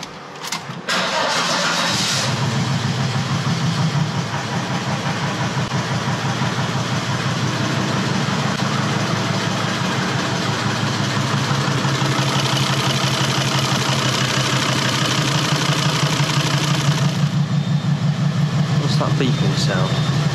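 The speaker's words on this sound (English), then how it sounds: "Start the engine, shall we?" A diesel Volvo XC90 engine cranks briefly and catches, then settles into a loud, steady, slightly rough idle close by that continues without a break, with a short faint voice at the start.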